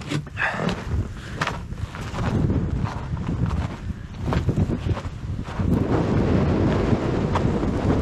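Strong, gusty wind on a polar-night winter hike in northern Finland, buffeting the microphone in loud rushing surges that rise and fall over several seconds, with no talking.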